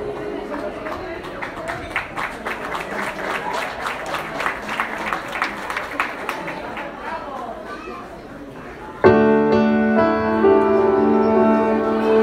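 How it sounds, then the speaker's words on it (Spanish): Guests at a quinceañera party clap in a loose rhythm amid crowd chatter for several seconds, then music begins loudly and carries on as the clapping fades. "Vamos a brindarles un fuerte aplauso y los invitamos al centro de la pista."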